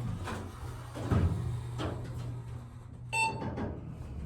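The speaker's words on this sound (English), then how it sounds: "Super slow door." A slow Montgomery KONE hydraulic elevator door at a Kohl's store in a Cincinnati mall slides open with a low mechanical rumble, followed by a short electronic chime, all fairly quiet against steady background hum.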